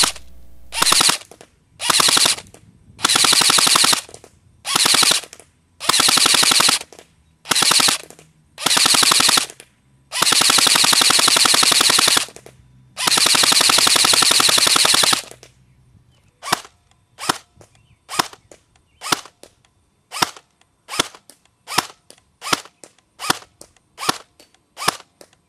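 A Well R6 M4A1 airsoft gun firing BBs, loud and close: long full-auto bursts of rapid clicking shots in the first half, then a steady series of single snappy shots spaced about a second apart.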